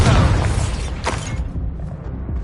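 Fiery Confringo spell explosion from Hogwarts Legacy: a loud booming burst at the start that rolls into crackling debris and a sharp secondary crack, then tapers into rumbling decay.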